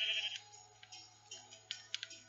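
Sheep bleating on a Minecraft farm: a bright, nasal digital bleat opens loudly, followed by several quieter clicks and short blips over a low steady hum, no voices.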